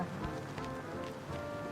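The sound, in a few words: heavy rain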